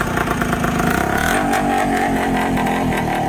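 A 1971 Ossa 250 TT scrambler motorcycle engine revs up close and loud, rising in pitch, then holds a steady rumbling idle-to-mid throttle.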